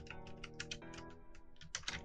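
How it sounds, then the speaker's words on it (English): Someone types on a computer keyboard with a cord in the way, a quick irregular run of close, crisp key clicks with brief pauses between bursts. "Typing a little slow because my cord in the way"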